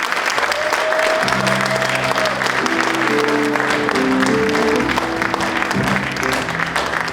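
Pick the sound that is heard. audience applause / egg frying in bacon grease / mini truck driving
audience applause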